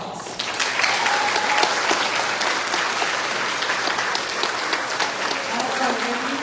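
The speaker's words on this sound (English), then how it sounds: "Let's give them a huge round of applause." Audience at a county fair royalty contest bursts into loud, sustained applause, a thick wall of clapping with scattered voices beneath.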